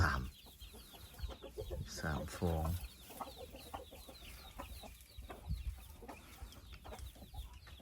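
Chickens and ducks kept together in a backyard coop cluck and squawk in scattered bursts at close range, with someone talking over them throughout.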